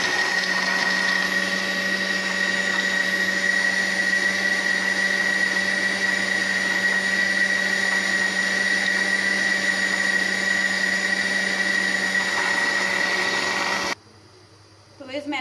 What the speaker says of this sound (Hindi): तो अब इसको हम ब्लेंड कर लेंगे।